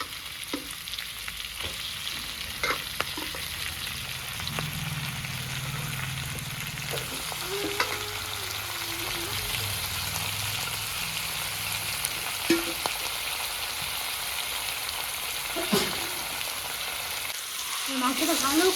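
Pieces of chicken sizzle and fry in hot oil in a pan, a steady close hiss throughout with occasional stirring scrapes and pops.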